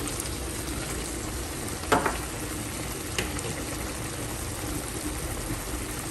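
Lime juice mixture boiling in a pan gives off a steady, close sizzling hiss, with a brief utensil clatter early on and no voices.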